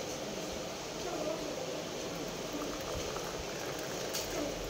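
Hot water poured into a cup of dry dust powder, a continuous bubbling, gurgling liquid sound at moderate level, close and steady throughout.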